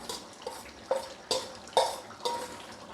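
Duck meat cooked with small garlic and chui being stirred in a pan, several distinct scraping strokes of a spatula against metal over a soft sizzle, close and unaccompanied by voices.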